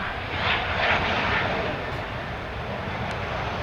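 A Mitsubishi Challenger 850 business jet lands at London Stansted Airport with reverse thrust deployed, a loud, steady broadband engine roar that swells slightly and then holds.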